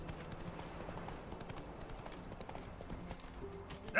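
Hoofbeats of the horse Roach trotting in The Witcher 3 form a steady, repeating clip-clop throughout, moderately close, with a brief louder burst at the very end.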